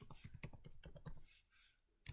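Quick run of crisp clicking keystrokes on a computer keyboard, close and quiet, followed by a short pause and a final couple of taps.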